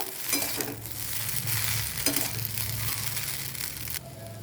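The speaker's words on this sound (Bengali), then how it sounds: "এবার এটাকে একটু ভালো করে নাড়াচাড়া করে নেব।" Food seasoned with turmeric and salt is stirred in a pan. Continuous close scraping and rustling strokes sit over a steady frying sizzle and low hum, and the sizzle quiets near the end.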